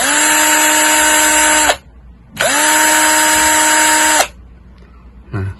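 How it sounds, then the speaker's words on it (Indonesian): A cordless drill fitted with a high-drain battery whines at full speed in two loud bursts of almost two seconds each, separated by a short pause, with a brief low sound at the end. "Saya akan langsung tekan ke kecepatan penuh."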